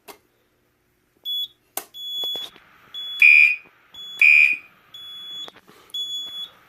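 Simplex 4004 fire alarm panel in walk test, sounding its horns as loud electronic alarm bursts: two strong pulses stand out among shorter beeps and a panel piezo tone, with no talking.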